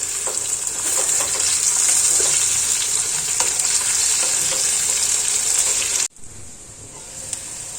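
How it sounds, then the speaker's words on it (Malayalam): Raw plantain fries in a pan with a steady, loud sizzle and crackle. The sizzle cuts off abruptly near the end, then resumes more softly. "അപ്പൊ കായ ഒന്ന് ചെറുതായിട്ട് ഫ്രൈ ആയി വന്നിട്ടുണ്ട്"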